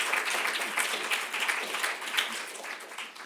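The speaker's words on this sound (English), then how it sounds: "So maybe a round of applause for everyone." A room of listeners applauds the afternoon's science speakers at a preparedness event, steady clapping with distinct individual hand claps, gradually easing off.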